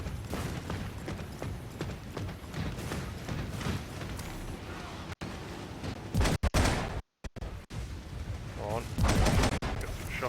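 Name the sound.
gunfire in the Eternal Crusade video game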